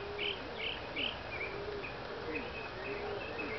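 Pigeons cooing outdoors, a run of soft, repeated low coos and rolling calls over a steady background hiss, moderately close and continuous throughout.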